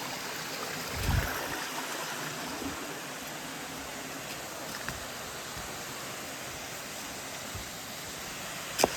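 Water rushes steadily at Ermayi waterfall near Dharmasthala, a dense, continuous roar of falling and flowing water that stays even throughout, with a few faint knocks and no talking.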